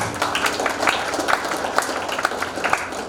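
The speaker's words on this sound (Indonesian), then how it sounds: "Tepuk tangan buat Tuhan." A church congregation claps together in a busy, uneven patter of many hands, sustained and fairly loud, with faint voices mixed into the crowd.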